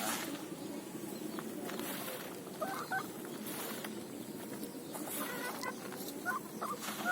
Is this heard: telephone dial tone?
no